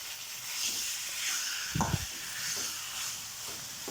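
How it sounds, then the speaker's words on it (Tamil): Chicken gravy fries in a pan over a medium flame under a soft, continuous sizzle, broken by a brief scraping stir near the middle and a few fainter stirs later. "கொஞ்ச நேரத்துக்கு இதே மாதிரி நீங்கள் மீடியம் ஃப்ளேமில் வச்சுட்டு கிண்டி விட்டுட்டே வாங்க."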